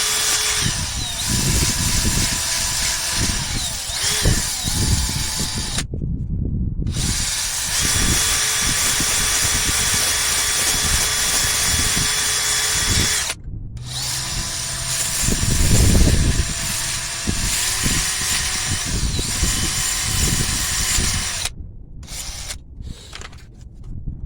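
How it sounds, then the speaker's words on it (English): A power tool with a 60 grit roll-off disc grinds during wheel bearing work on a 2005 Honda Civic LX in a parking lot, a loud, sustained whine broken by a few short stops and one heavier grinding surge. "I think this is a 60 grit roll-off disc."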